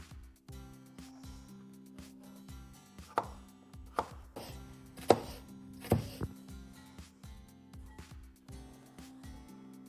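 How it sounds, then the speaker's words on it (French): A knife chops carrots rhythmically on a cutting board, steady quick thuds close up, with a few louder strikes and no talking. "J'attaque maintenant à couper la carotte."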